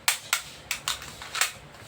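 A metal-bodied C2A spring airsoft pellet pistol fires about six sharp, loud cracks at an uneven pace, close up, with no talk.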